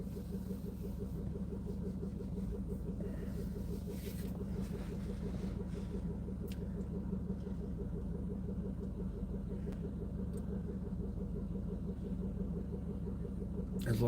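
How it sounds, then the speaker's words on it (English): Cars pass and idle nearby at night in a steady low engine rumble that runs for the whole stretch, with a faint rhythmic hum and a few small clicks. "There's a lot of cars here."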